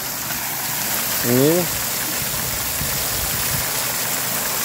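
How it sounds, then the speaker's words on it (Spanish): Irrigation water gushing onto a banana plantation, a continuous rushing, splashing hiss that runs throughout at steady volume, with a man's brief spoken word over it near the start. "Qué chorrón de agua, Lujo de agua, miren."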